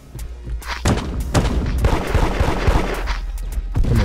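Shotgun fire in the Roblox game Da Hood, a loud, close volley of rapid gunshots and thuds packed together over several seconds, with a fresh burst near the end.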